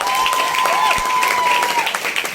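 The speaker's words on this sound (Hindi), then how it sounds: "इनके लिए भी एक बार जोरदार ताली होनी चाहिए।" Loud, sustained applause from an audience at a business speech in Nala Sopara, a dense wash of clapping with a faint voice or tone running underneath.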